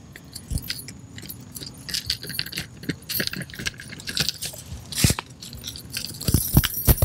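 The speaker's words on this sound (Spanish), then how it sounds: "Estas son las llaves que se utiliza para abrir a ellos. En este momento procedo a abrirla." A bunch of metal keys jangles up close while a mini rhizotron field tube is being unlocked, giving bright, irregular clinks and rattles with a few sharper metallic knocks.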